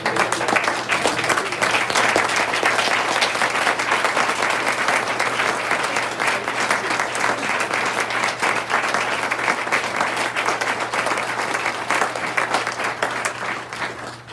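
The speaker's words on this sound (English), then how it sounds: "we'd like to give you a round of applause and a standing ovation" A meeting audience gives a long round of applause and a standing ovation, a loud, sustained roar of many people clapping that holds evenly throughout and thins slightly at the end.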